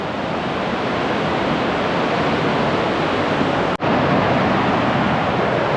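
A loud, steady roar of rushing water from Narhara Waterfall in Dhamtari fills the clip continuously, with a brief dropout near the end before the torrent resumes.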